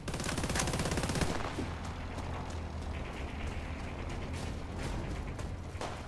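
Rapid automatic gunfire erupts in the Warface video game, loud and dense in a continuous burst for about a second, then gives way to scattered shots and mechanical clanks over a steady low rumble.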